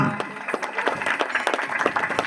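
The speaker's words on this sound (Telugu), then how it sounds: "ఒక్కసారి చప్పట్లు కోరుతా ఉన్నాం" An audience claps at a Sri Rama Navami gathering, a dense patter of hands at moderate volume lasting the whole stretch, with some voices mixed in.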